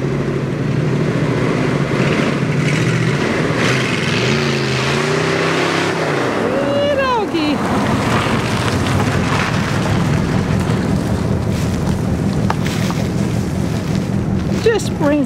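A 1964 Barracuda or 1962 Buick Special classic car revs hard and launches into a wheelie, its engine roar rising and sweeping past loudly, with wind buffeting the microphone throughout.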